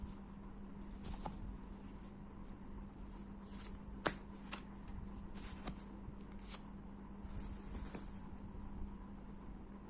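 Cards shuffled during an angel card reading: quiet, soft riffling and light papery snaps over a faint steady hum, with a few sharper clicks.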